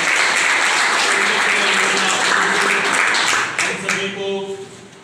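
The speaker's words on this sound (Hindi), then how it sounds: "मैं चाहूँगा आप लोग ताली बजा" Applause from an audience at an outdoor Youth Congress meeting in the rain, loud and sustained dense clapping that fades toward the end as scattered voices come through.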